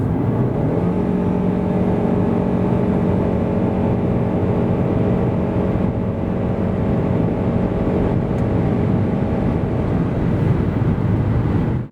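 A 2024 Ford Kuga ST-Line 2.5 full hybrid accelerating from 90 to 140 km/h, heard from inside as a steady engine drone with a low hum and tonal whine, mixed with road and wind noise that stays loud and even throughout.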